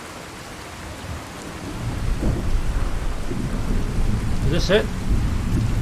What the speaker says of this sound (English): I don't know if it's a feature of this mod and the rain is so loud